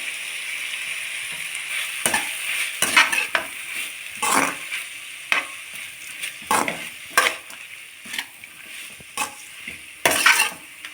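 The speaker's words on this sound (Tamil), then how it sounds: "தேங்காய் போட்டு ரொம்ப நேரம் வதக்க வேண்டாம் அப்படியே ஒரு ரெண்டு வாட்டி பரட்டி விட்டுட்டு நம்ம எடுத்துடலாம்" Grated coconut sautéing in a pan for village-style kadamba chutney, with a soft sizzle under repeated scraping strokes of a spoon against the metal, irregular and close, with no talking.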